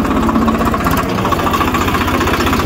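A Swaraj tractor engine idles steadily and loud throughout, with a constant low chugging knock and vibration and no pauses or talk.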